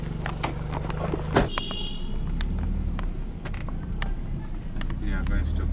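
A car drives along a road on a sightseeing tour in Uganda, its steady engine rumble and cabin hum running throughout, with occasional knocks and creaks while people talk inside.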